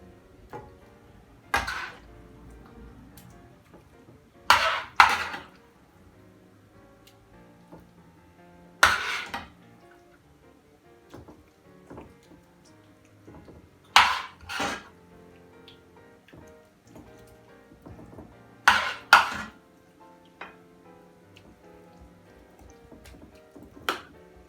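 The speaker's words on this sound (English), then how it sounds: "all we're going to do is put mixture into the base of the pie dish" Colcannon fish pie mixture spooned into a 1.5 litre pie dish, a handful of sharp scraping knocks of spoon against dish at intervals over quiet room tone, with soft clinks in between.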